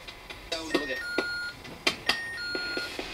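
Several short electronic beeps at different pitches sound over soft clicks and clatter during a Ouija board session, close by, with no speech.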